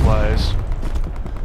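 A short burst of rapid gunfire in the World War II shooter Brothers in Arms, loud and close, crackling over battle ambience with a voice faintly mixed in.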